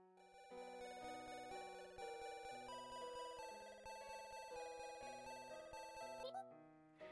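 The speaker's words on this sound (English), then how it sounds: "awoken by a rather adorable ringtone signaling someone's trying to call her" A cute, melodic phone ringtone from the game A Year of Springs plays as a bright, bell-like tune of steady chiming notes, clear and alone, cutting off near the end.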